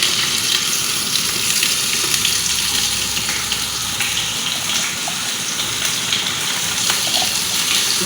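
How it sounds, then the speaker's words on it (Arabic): Onions frying in a cooking pot give a steady, dense sizzle with a watery hiss throughout, continuous and fairly loud with no voices. "اشيط البصل، اشيطه في الاشواط"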